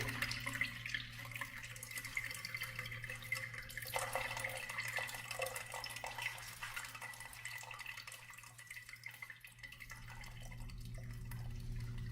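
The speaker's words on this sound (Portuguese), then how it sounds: "Agora vamos interromper esse processo de revelação com água e vinagre." Water mixed with vinegar poured into a tray as a stop bath to halt darkroom photo development, a steady close trickle and splash running throughout without talk.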